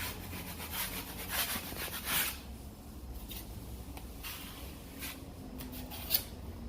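Scraping tool dragged over a wall to knock off nail heads while a rental is prepped for painting; repeated close, rough rubbing strokes, steady and moderately loud, with no talking.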